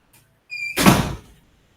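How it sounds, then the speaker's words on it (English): A door in a meeting room is pushed shut: a brief squeak, then a solid close with a short rumbling thud, fairly near, with no talk over it. "let me just close the door"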